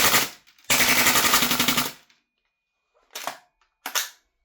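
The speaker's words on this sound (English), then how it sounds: "So let's see if it can do a bit of full auto." A CYMA CGS Salient Arms gas blowback airsoft rifle fires on full auto, giving a loud close rattling burst of rapid clacks for over a second, then two short separate bursts after pauses.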